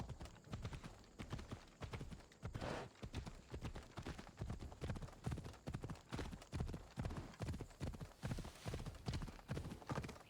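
Horse hooves clip-clop at a steady trotting rhythm in Assassin's Creed Odyssey, a continuous series of fairly close, moderately loud beats with no one talking over them.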